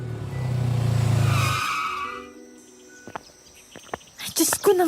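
A motorbike on two flat tyres swerves along a rough, stony road, its engine surging loudly then fading with a skidding, scraping sound, followed by scattered clicks and knocks amid quiet.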